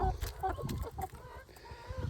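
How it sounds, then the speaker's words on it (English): Backyard chickens in a coop clucking in soft, uneven bursts, close by, with a bit of quiet talk mixed in. "There's another smart chicken."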